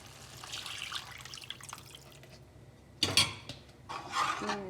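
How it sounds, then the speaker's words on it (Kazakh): Water is poured into a pot on a gas stove turned low, heard as soft trickling and splashing bursts, the loudest near the end, with quiet kitchen noise between and no talk. "Одан кейін үстіне суды құйып дайындап қояйын."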